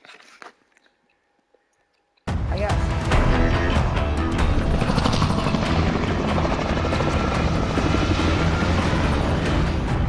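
Loud, continuous engine and rotor roar of an aircraft in the video game Warzone, bursting in abruptly after a near-silent start and then holding steady and close.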